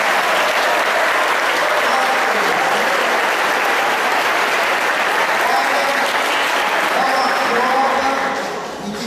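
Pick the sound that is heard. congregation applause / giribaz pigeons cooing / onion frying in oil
congregation applause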